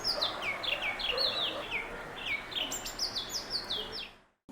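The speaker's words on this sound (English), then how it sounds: "they make a unique tune each time they initiate a call and then keep repeating the same tune for quite some time" Magpie robin singing outdoors, a clear repeated phrase of bright whistled notes delivered again and again at close range, with softer birdsong and ambient noise behind.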